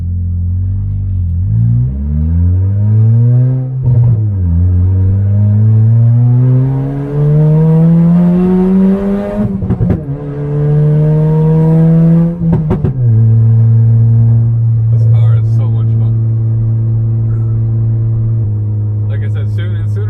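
A turbocharged Toyota Corolla engine revs up in several long rising pulls, loud and close, with gear changes between them, then settles into a steady idle drone.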